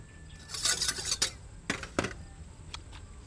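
Salad with coriander being tossed in a bowl, giving bursts of clattering utensil and dish scrapes in a few quick strokes, moderately close, with no talking.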